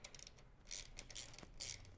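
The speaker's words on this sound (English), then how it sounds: "we grab our 10mm wrench and start to undo the belt tensioners" A 10mm wrench loosens the belt tensioner bolts on a Priority Classic Plus Gotham bicycle. Quiet, close metallic clicks and rasps come in several short bursts.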